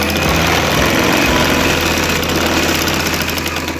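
A sewing machine stitches an elastic trouser waistband in a continuous, dense, rapid mechanical whir that runs unbroken and loud throughout.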